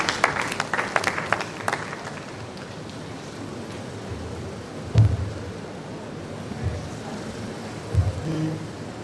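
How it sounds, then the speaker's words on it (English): An audience at a university event applauds a Vice Chancellor. A burst of clapping opens the moment and then thins out into a murmuring hall, with a few dull thumps and some rumbling room noise. "You keep clapping until you get to the podium"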